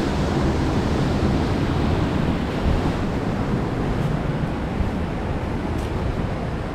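Sea waves breaking beside an abandoned house on the Brazilian coast, a constant loud roar of surf mixed with wind buffeting the microphone, no pauses throughout.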